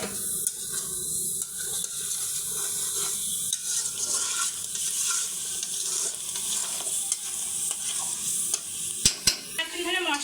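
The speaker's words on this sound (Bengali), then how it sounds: "মশলাটা কষালাম তারপরে আবারও একটু কষাচ্ছি" A spice paste is stir-fried in a pan for a mustard-paste stem dish, giving continuous close sizzling with regular scraping and stirring strokes and a few sharper clatters near the end, and no one speaking.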